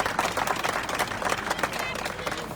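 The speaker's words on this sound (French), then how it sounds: "je vais entendre un maximum d'applaudissements" A lively audience at a French-language gathering claps and cheers in a dense, continuous burst of applause, steady and loud throughout with no single claps standing out.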